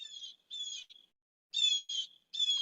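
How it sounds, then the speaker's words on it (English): Outdoor bird chirping, a string of bright, clear chirps and short trills in separate bursts with brief silent gaps, heard alone and moderately distant. "There's a bird outside."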